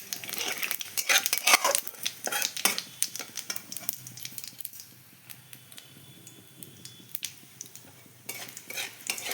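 Cinnamon, cardamom, dried red chillies, cumin and bay leaf fry in hot oil in a pan for chicken and egg kosha, stirred with a utensil that clinks and scrapes over a soft sizzle.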